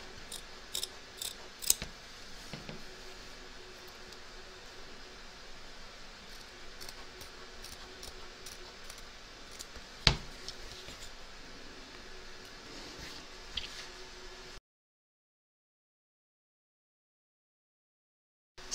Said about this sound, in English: turn your hoop over and trim around the edge